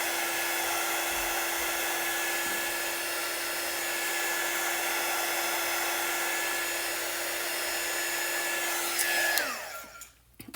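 A dryer blows steadily on the edge pieces of a Valentine tiered tray insert, a loud continuous whine with a fixed hum that holds for about nine seconds, then drops in pitch and cuts off as it is switched off.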